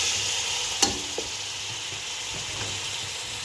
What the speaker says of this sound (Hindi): अब हम इसमें चिकन ऐड कर देंगे